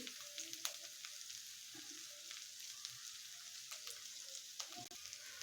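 Finely chopped coriander fries in hot oil in a pan for a Mumbai-style vada pav filling, giving a soft, continuous sizzle with faint stirring taps, quiet and close.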